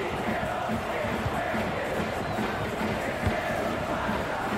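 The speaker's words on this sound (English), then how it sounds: "just listen to this crowd. They want a bit more." Stadium crowd noise from the football video game FIFA 22 during an America versus Chivas match, a dense, steady roar of many voices with chanting swells, loud and continuous without commentary.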